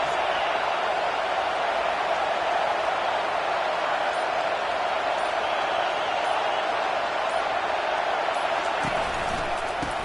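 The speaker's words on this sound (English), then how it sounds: "Listen to the crowd energy here in the early going." Steady, dense roar of a football stadium crowd cheering in the early going of a game, loud and continuous throughout with no breaks.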